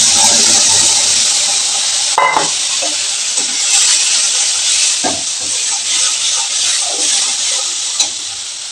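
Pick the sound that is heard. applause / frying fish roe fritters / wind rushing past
frying fish roe fritters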